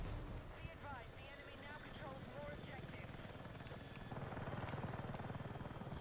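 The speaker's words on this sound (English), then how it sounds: "Flying through city streets, the helicopter." A helicopter in the video game Battlefield 6 sweeps low through city streets, its steady rotor chop and engine rumble holding throughout and swelling louder near the end, with a voice talking over it.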